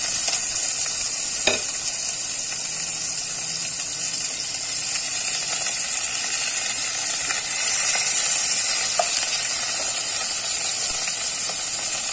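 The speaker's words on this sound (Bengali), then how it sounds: "কাতলা মাছগুলোকে হালকা ফ্রাই করতে হবে, বেশি ফ্রাই করা যাবে না।" Katla fish pieces rubbed with turmeric and salt fry lightly in a pan, giving a steady, even sizzle with faint crackles and one sharp pop, close and continuous with no talking.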